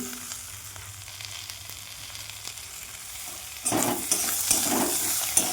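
Tomatoes dropped into a pan of already-fried ingredients: a low background simmer, then a sudden bright hiss of sizzling that stays loud, with a few stir scrapes.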